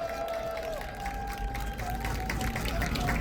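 An outdoor audience at a peace rally concert applauds after a singer's performance. The clapping is soft and spread out, continuing steadily and building slightly toward the end.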